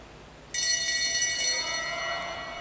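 A bell rung during a junior track cycling heat at a national championships velodrome, a sudden bright ringing that starts after a half-second and rings on steadily, slowly fading.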